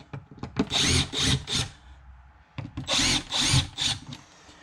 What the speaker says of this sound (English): You're going to have a Phillips screwdriver or an impact in my case.